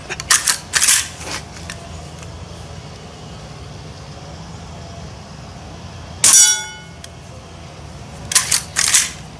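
Gunshots striking hanging metal noise-maker targets outdoors ring out as sharp clangs with bright metallic ringing, a few hits early, one prominent ringing strike midway and more near the end.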